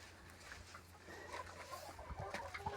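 Hens in a dry, clean coop give faint, scattered clucks and chirps from a short distance, growing a little busier toward the end, with no voices.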